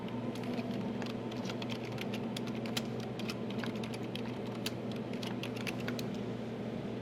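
Steady typing on a computer keyboard in a university classroom, a continuous patter of light clicking keys over a constant low hum, with no voices.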